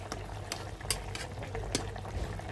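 Fish curry with pointed gourd and potato simmering in a pot, a quiet steady bubbling with soft intermittent pops and light utensil taps, faint and close.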